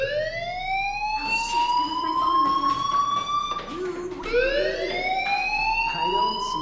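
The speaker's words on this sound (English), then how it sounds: "Hey, do you hear that fire alarm?" Fire alarm ringing in the video game Life is Strange: a loud, continuous wailing siren that rises and falls in pitch, sweeping up again partway through, with no pause.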